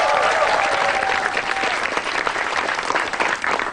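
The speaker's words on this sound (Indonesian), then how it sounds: "Wah, tepuk tangan dong buat Maizon." A studio audience at a Metro TV stand-up comedy show breaks into loud, sustained applause welcoming a comedian, dense clapping filling the room, with a brief whistle early on.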